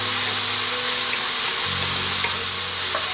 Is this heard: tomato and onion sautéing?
yes